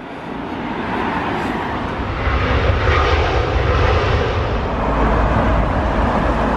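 Airliner passing overhead near Heathrow Airport, a loud sustained broadband engine roar that swells slightly and holds steady throughout, with no talk.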